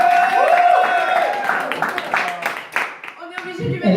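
Audience applause at the Festicannes event: a crowd claps steadily under a person speaking French over a microphone, the clapping loudest partway through.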